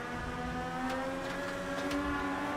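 Onboard race car engine from a racing video game at Silverstone National, a steady high-pitched drone with layered tonal harmonics holding nearly constant throughout, continuous and close with no talk.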